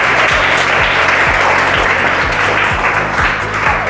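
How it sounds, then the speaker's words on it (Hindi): A group claps continuously and briskly, a dense, steady patter of applause heard close up, with a faint rhythmic thump running beneath it. "ताड़ियूं पुट सफ़िया लाइ"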